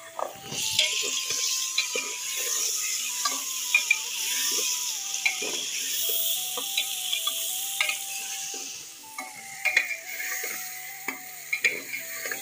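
Tomatoes going into browned mixed vegetables in a hot pan, a steady close sizzle with scraping stirs and occasional clinks of a spoon, no talk.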